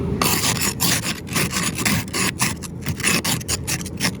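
Scraper rasping repeatedly over a surface on a long-neglected car, a rapid series of close, gritty strokes with brief pauses between passes.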